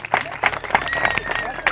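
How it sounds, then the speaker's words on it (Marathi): Audience clapping and cheering for lavani dancer Bharti Bhople at a dance competition in Igatpuri, with crowd voices and a sustained high tone running through the brief burst of applause. "जोरदार टाळ्या भारती भोपळेसाठी"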